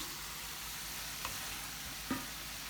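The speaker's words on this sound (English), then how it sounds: "Now I'm going to take my shrimp and just put it right on." Shrimp going into a hot pan for Cajun shrimp gives a faint, steady sizzle, broken by two small taps as pieces land.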